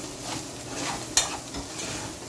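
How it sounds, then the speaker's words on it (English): Minced meat cooking in a pan for baked penne pasta, stirred with a utensil; a soft sizzle runs underneath gentle scraping, with one sharp clink against the pan partway through. "We're also going to go ahead and stir our minced meat or chopped meat."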